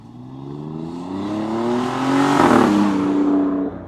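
An Alfa Romeo Giulia Quadrifoglio's 2.9-litre twin-turbo V6, making 505 horsepower, revs up with a rising, throaty roar, peaks sharply, then holds a steady high drone before cutting off.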